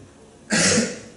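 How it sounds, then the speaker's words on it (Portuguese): A single harsh cough from a person recovering from a cold with a heavy cough, loud and close, about half a second long. "Eu estou vindo de uma gripe com muita tosse"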